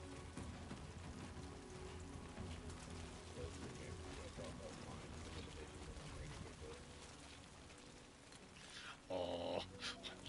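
Steady rain patters and hisses across a surface in the video game Death Stranding 2, a dense wash of drops, with a brief louder burst of sound near the end.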